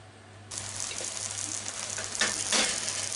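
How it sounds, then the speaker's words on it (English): Hashed radish frying in a pan for a simple Japanese side dish; a steady close sizzle starts abruptly and holds, with a couple of louder hissing bursts as the food is stirred or moved. "Fry them about 10 minutes."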